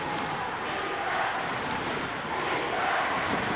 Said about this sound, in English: And the crowd erupts in a defensive charge.